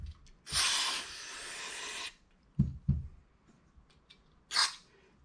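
Carb cleaner sprayed from an aerosol can onto a Triumph TR6 carburetor during a rebuild: one long close hiss of about a second and a half, a couple of brief knocks, then a short final burst. No speech is heard.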